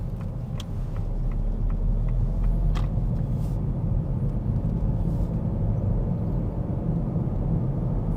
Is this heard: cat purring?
no